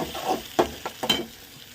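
Onions and tomatoes with ginger-garlic paste softly sizzling in a pan with a few scraping stirs of a spoon, close by and fairly quiet, no talking.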